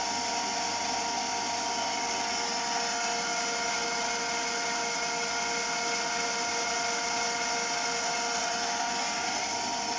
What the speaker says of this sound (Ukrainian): цепочок шелестить, моторчик тихо робить